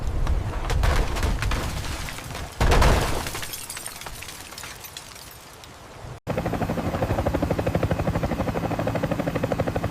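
A helicopter arrives during a violent tornado superstorm, its steady rhythmic rotor chop loud and continuous in the second half, following a stretch of roaring wind and crashing debris noise.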